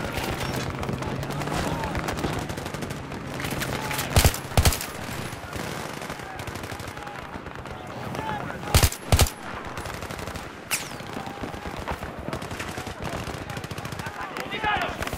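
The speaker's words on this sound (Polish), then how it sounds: "Strzelają do nas!" Dense, loud bursts of machine-gun and rifle fire from a Battlefield 3 battle, with several sharp heavier booms and overlapping voices shouting.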